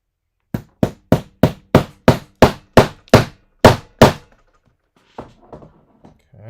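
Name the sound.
hammering a toy figure's elbow repair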